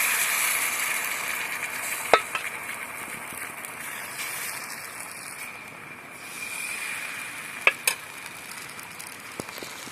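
Wheat flour batter (dhirde) fries in oil on a flat pan, hissing in a steady close sizzle with a few sharp clinks of the spatula against the pan.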